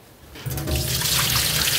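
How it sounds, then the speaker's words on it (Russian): Tap water gushes steadily into a sink while rice for plov is rinsed, a loud, close, continuous splashing that starts abruptly and runs on. "промывайте рис до такой степени, чтобы вода, которая сходит с риса, была пригодной для питья"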